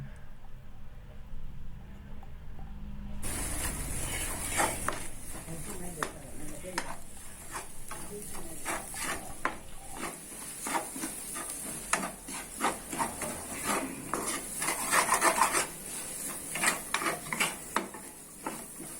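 Onion, cabbage, carrot and capsicum are stirred over high flame in a pan for fried noodles, giving a steady sizzle with rhythmic scraping and clattering of the utensil against the metal, close and continuous.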